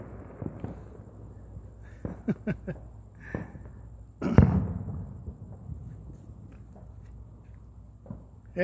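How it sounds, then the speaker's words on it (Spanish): A few scattered firecracker pops, then a louder booming firework blast midway that rumbles and fades, against a quiet outdoor background during Fourth of July celebrations in the United States. "Desde anoche se escuchaba bien machín los cohetes."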